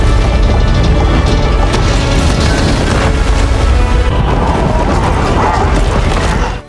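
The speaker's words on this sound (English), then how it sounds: "Mount Doom erupted in a massive explosion, and shockwaves spread throughout Mordor" A volcanic eruption of Mount Doom renders as a crash effect: a dense, loud, continuous roar of crashing and rumbling debris runs throughout, then cuts off abruptly at the end.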